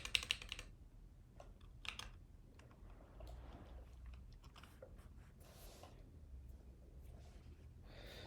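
Quiet computer keyboard in a home workspace, handled and typed on in short irregular bursts of faint clicks and taps, with soft low background rumble and no voices.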